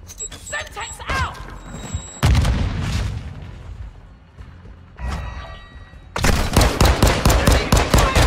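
Semtex grenade blast and gunfire in Modern Warfare 2 during a pistol match, with sharp shots, a heavy booming burst, and a rapid, loud volley of fire near the end.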